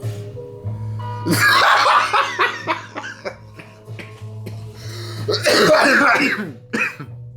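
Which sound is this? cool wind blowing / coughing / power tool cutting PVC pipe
coughing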